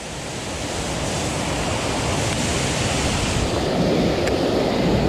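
Water pours out of a hidden spillway into a bass fishing spot, a loud, steady, broadband roar that continues unbroken, close by and with no talk over it.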